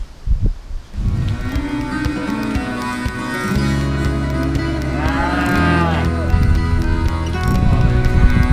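Dairy close-up cows bellowing in a handling pen before calving vaccinations, loud, long overlapping moos that continue almost without a break, close by and dominating the scene.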